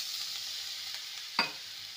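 Spiced masala with Kashmiri chili powder fries in a pan for a potato dum curry: a faint, even sizzle broken by a single quick scrape of the spoon.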